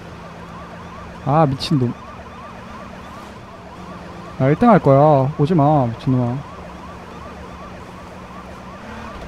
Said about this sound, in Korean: 뒤에 경찰차.